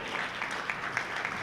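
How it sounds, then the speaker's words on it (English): Brief, fairly faint round of applause from an audience at a volunteer orientation for a winter shelter, steady clapping lasting only a moment. "it deserves a round of applause"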